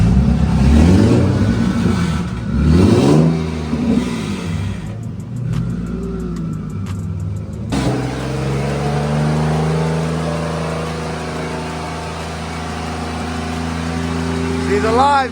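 A single-turbo Infiniti G37 V6 with a fresh head gasket cranks, fires up and settles into a steady idle after a few blips, the engine loud and close with a rough tone, and a voice speaks briefly near the start.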